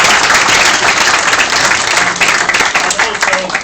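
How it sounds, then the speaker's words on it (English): Wedding guests applaud the photographer at the speeches in a dense, loud burst of clapping from a close crowd that fades slightly toward the end, with a voice briefly audible over it. "give Peter, our photographer, a nice round of applause"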